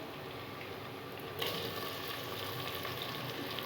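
About 300 grams of tomatoes added to browned onions in a pan, a quiet steady frying hiss that swells and brightens partway through as they hit the oil, continuing evenly with faint mechanical clicks.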